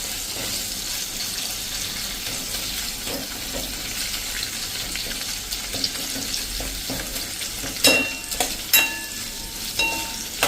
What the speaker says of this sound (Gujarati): આ રીતે કન્ટિન્યુ આપણે મરચાંને પણ રોસ્ટ કરી લેવાના છે હલકા એવા